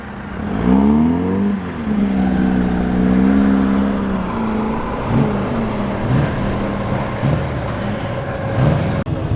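A green vintage racing car at the Prescott hill climb passes close by, its engine note rising and falling as it drives past, loud and rumbling, then fading toward a quieter background.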